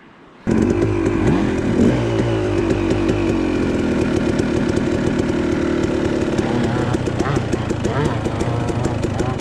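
A two-stroke KTM 300 dirt bike revs hard and loud while climbing a steep hill, its engine note rising and falling continuously from start to finish.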